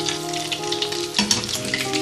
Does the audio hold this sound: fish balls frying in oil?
yes